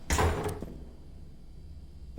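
A door in the liminal pool-level game Pools opens with one bright, sliding mechanical burst that quickly fades into a faint hollow room tone, with a small click near the end.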